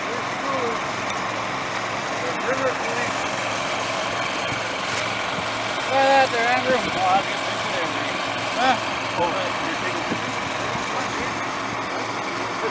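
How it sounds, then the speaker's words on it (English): Water pumps drone steadily at idle while filling an aqua dam beside a canal, a continuous engine rumble with people talking over it. "The water's being pumped in on idle. We're going to turn the pumps up."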